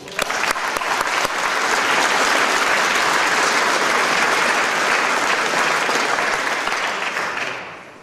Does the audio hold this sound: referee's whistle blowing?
no